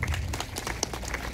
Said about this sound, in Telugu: క్లాప్స్ కొట్టాలండి.